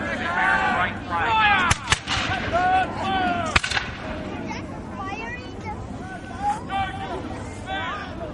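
Musket and artillery fire at a Battle of Newport reenactment, with several sharp reports and booms scattered through a field of crowd noise and a voice talking over it.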